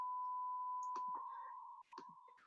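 A steady electronic tone passes through a graphic equalizer with its higher-frequency bands set, holding one sustained pitch while a person talks over it.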